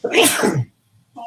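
A single loud, sharp sneeze close by, followed after a short pause by a brief voice.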